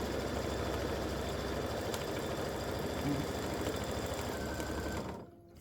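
A sewing machine stitches appliqué fabric for a turkey quilt block, running in a steady fast whir close to the listener before stopping abruptly near the end.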